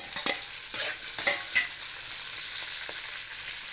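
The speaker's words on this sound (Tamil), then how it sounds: "கடுகு போட்டுக்கலாம் பச்சை மிளகாயும் கருவேப்பிலையும் போட்டுக்கலாம் வெங்காயம் போட்டுக்கலாம்" Mustard seeds, green chillies, curry leaves and chopped onion fry in hot oil for aloo paratha filling, giving a steady close hiss with a few sharp crackles and spatula scrapes early on; no one speaks.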